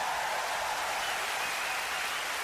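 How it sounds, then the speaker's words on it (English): Steady, dense applause for Stonewall the dog, a continuous hiss of many hands clapping at a distance, even in level with no pauses, in a studio setting. "That's an applause for Stonewall"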